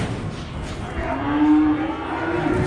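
Cattle at a feeder auction give a drawn-out, low moo in the middle of a steady hum of pen and yard noise.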